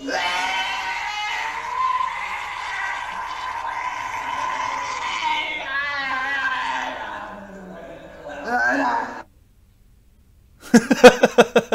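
A voice screams in a long, wavering, bleating cry like a goat, loud and strained, then breaks off; rapid choppy noise follows after a silence.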